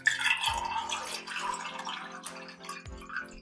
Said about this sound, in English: I'm going to pour it straight in and hopefully have not even remote spillage